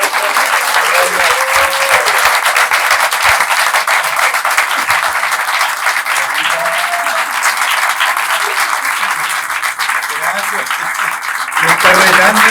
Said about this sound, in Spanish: les pido por favor un tremendo aplauso